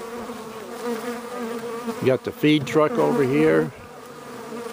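Honeybees buzz around a large yard of populated southern beehives, a steady dense hum running throughout while someone speaks close by over it.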